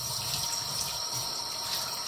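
Cold tap water runs steadily while squid is cleaned in a kitchen, a continuous hissing gush at moderate level.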